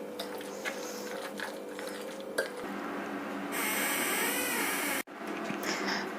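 A spoon stirs cauliflower and chicken cupcake batter in a bowl, with soft wet scraping and a louder sustained swishing stretch near the end, close and moderately quiet.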